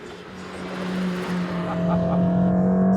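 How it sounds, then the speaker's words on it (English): A Mercedes-AMG GT Black Series with its V8 drives a racetrack, a steady, loud engine drone that builds gradually as it pulls along, heard alone. "driving the new AMG GT Black Series on a racetrack"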